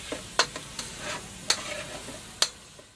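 Beef mince browns in a stovetop pot, a low sizzle punctuated by three sharp spoon scrapes and clanks at roughly one-second intervals, close and with no voices.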